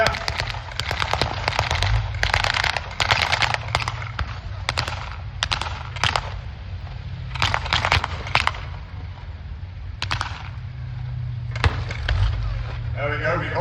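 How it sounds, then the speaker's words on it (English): A 222 armoured car fires bursts of gunfire at a WWII battle re-enactment, a rapid series of sharp cracks in irregular clusters over a constant low engine rumble, loud and fairly close, with a voice commentating over the top. "We've got the 222 firing on what looks like some heavy support."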